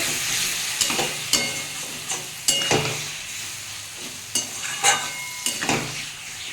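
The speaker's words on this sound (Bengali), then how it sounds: "তারপরে লোকে মাছটা দিয়ে সমানে ভাজতে হবে" Bombay duck fish frying in a pan, a steady sizzle broken by repeated stirring scrapes and clinks at a moderate, close level, with no voices.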